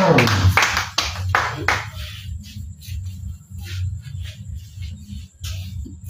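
Congregation at a prayer vigil breaks into a short burst of loud, dense applause in acclaim, which stops after about two seconds, leaving a low murmuring room tone with faint stray sounds.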